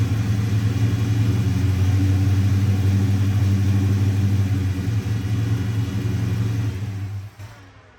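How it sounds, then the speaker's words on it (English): A classic car engine runs loud and close, its deep rumble held at raised revs for several seconds before easing down and dropping off at the end. "once we pull the throttle open and raise up the RPMs on the engine"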